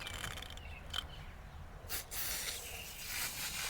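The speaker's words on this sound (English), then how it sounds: "shake the can very well and then start spraying" Aerosol can of AC coil cleaner spraying onto air conditioner coil fins, a steady airy hiss with short bursts, close and fairly quiet over background noise.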